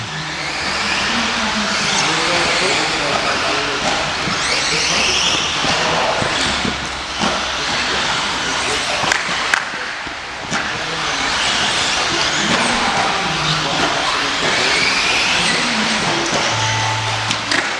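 Team Associated B7D two-wheel-drive RC buggies race around a local track, giving a continuous buzzing whine of small electric motors that rises and falls as the cars pass, loud and close.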